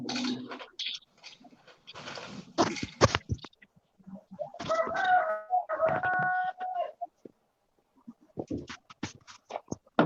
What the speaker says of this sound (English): Sounds like the chicken's getting mad.